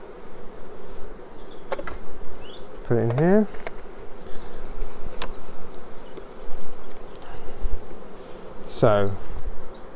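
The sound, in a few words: honey bees buzzing at a hive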